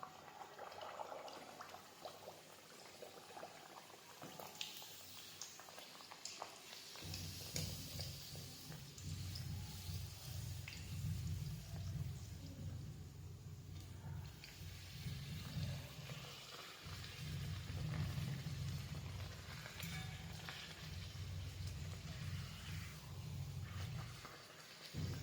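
Bhature frying in hot oil, a steady bubbling sizzle that swells after a few seconds and runs on continuously at moderate, close level.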